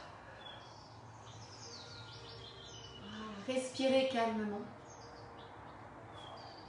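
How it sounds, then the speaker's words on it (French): Small birds chirp softly outdoors in the distance, faint high tweets scattered throughout, while someone speaks calmly in French over them. "Les petits oiseaux, vous entendez?"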